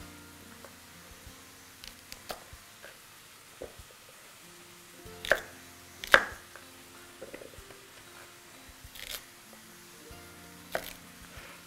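A knife chops baby carrots on a board for beef stew: sparse, quiet, irregular taps with a few sharper strikes over a hushed room.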